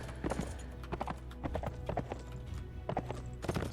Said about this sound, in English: I need a new horse because my horse is lame